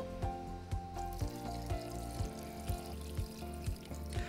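A little water poured into a braising pot of red wine for ox cheeks with parsley root, a continuous close pour over a gentle sizzle, with a faint rhythmic clatter in the background and no voices.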